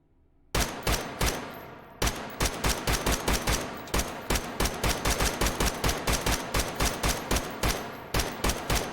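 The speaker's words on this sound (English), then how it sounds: "put an educational 30 rounds downrange with the Model 1" A Radian Model 1 rifle in a video game fires a long string of rapid, evenly spaced loud shots after a short quiet start, with a brief gap early on, then keeps steady semi-automatic cadence.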